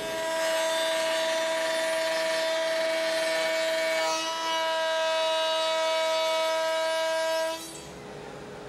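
A wood router with its bit raised to about 3/4 inch cuts a socket for an Arts and Crafts panel bed against a jig, a loud, steady, high-pitched whine that holds for about seven seconds before dropping away.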